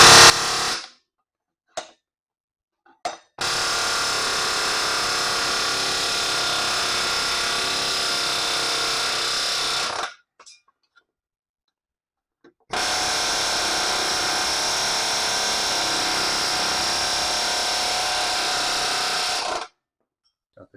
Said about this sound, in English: We're going to cut them off with the air chisel.